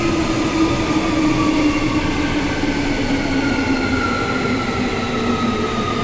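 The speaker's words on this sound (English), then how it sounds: "train coming in" A train pulls into Joondalup station, a steady loud rumble of wheels and motors with a faint high squeal running throughout, no voices.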